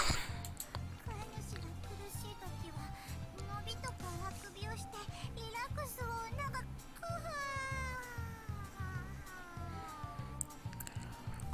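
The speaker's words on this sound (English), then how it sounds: "The long string of yawns was surreal." Anime cat girls from the Nekopara visual novel let out a long string of high, drawn-out yawns and stretching sighs, voiced as cat-like mewing over a steady, low game music loop.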